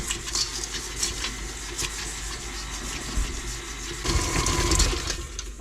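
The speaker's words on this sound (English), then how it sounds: "Let's cream these two together." Stand mixer paddle creaming butter and white sugar for a cinnamon coffee cake, a steady whirring churn with soft thumps, growing louder and rougher in the last second or so.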